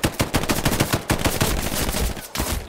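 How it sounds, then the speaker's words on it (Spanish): Rapid machine-gun bursts from enemies firing at the player in Hell Let Loose crack out close and loud. The sharp shots come in quick rhythmic strings with a brief gap near the end, and no voices are heard. "Me están disparando"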